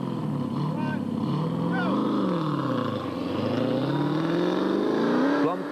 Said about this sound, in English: The V8 may be powerful, but its strength is offset by lack of mobility on the tight roads